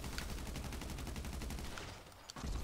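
Sustained gunfire in GTA 5 Online, a dense run of rapid shots fired close and loud for about two seconds, pausing briefly before another shot at the end.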